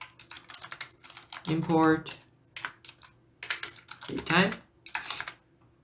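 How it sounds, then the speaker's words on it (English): Computer keyboard typing, short bursts of quick keystrokes around speech, while entering Python code for a Django tutorial; a person talks between the bursts. "And the way we do that is by typing in from"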